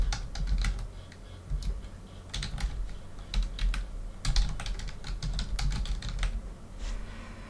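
Someone types a greeting on a computer keyboard, producing close, clicky keystrokes in irregular bursts with short pauses between them.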